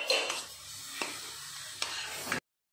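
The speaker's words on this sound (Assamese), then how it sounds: "মই কাটি লোৱা ড্ৰাই ফ্ৰুটছখিনিও এই গাজৰতে দি আছোঁ আৰু গোটেইখিনি একেলগে মিলাই পেলাই ভাজি আছোঁ" Grated carrots and chopped dry fruits sizzle softly in a pan for carrot halwa, with a few distinct scrapes of stirring before stopping.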